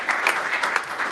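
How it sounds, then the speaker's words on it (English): Audience applause at a board of trustees meeting, a steady burst of many hands clapping throughout, fairly close and loud, with no talk over it. "Let's give Donna a round of applause"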